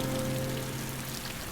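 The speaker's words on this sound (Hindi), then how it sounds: "अरे वाह बुआ, क्या बारिश है" Heavy rain pours steadily on surfaces, a dense, continuous hiss with no breaks, loud and close, with a faint low hum beneath it.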